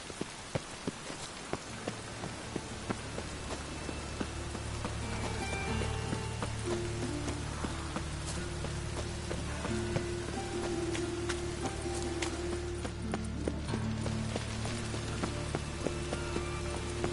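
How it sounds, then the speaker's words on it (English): Steady rain falls across an open-world town setting in The Witcher 3, a constant broadband patter with scattered droplet ticks continuing throughout with no voices. "Looks like rain."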